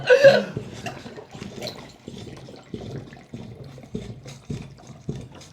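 A water dispenser fitted with a large bottle gurgles as air bubbles rise through the water, a series of close, rhythmic glugs following a louder splash at the start.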